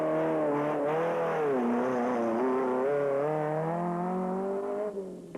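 Off-road rally vehicles, including a Toyota Hilux among the production class, leave the start line of a desert race with a sustained, loud engine drone that rises and falls in pitch as they accelerate and shift.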